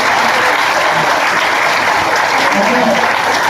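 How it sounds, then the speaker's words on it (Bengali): A meeting audience applauds the speaker with dense, loud, sustained clapping that stays even for several seconds, a crowd of many hands close by. "স্যারের জন্য এইটুকু করতালি যথেষ্ট নয়"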